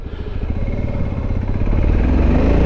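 Single-cylinder engine of a 2022 VOGE 650DSX motorcycle pulling steadily and building revs past about 2,500 rpm, a loud, close, continuous pulsing drone that swells slightly toward the end.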